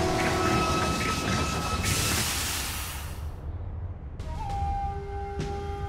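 A train in the video game Bloodstained: Ritual of the Night rumbles steadily with rail noise and tonal hums, then the sound cuts to quieter ambience with sustained tones.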